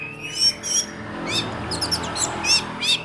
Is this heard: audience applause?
no